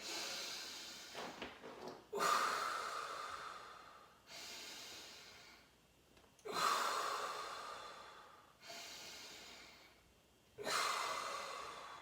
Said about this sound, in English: you're gonna start with deep breaths, in through the nose, out through the mouth